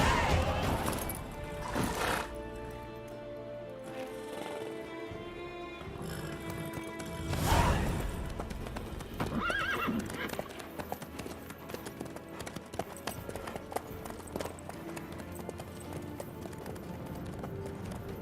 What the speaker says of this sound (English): How's your horse? Swift?